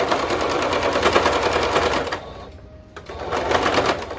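A sewing machine stitching a quarter-inch seam on a fabric face mask runs in fast, steady stitching bursts, pauses briefly, then resumes its rapid mechanical chatter.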